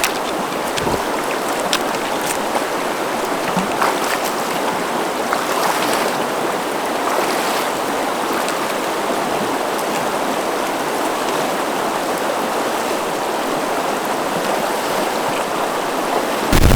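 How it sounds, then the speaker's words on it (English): River water rushes steadily at an Appalachian Trail crossing in western Maine, a loud, continuous broadband wash with no pauses and no voices. "and now there's this river crossing."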